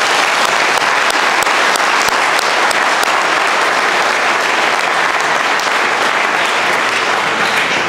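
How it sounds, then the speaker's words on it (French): A large audience at a university's academic-year opening ceremony bursts into dense, sustained applause for retiring staff, loud and continuous throughout. "je vous propose de les applaudir"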